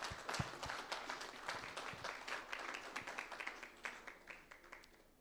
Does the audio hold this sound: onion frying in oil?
no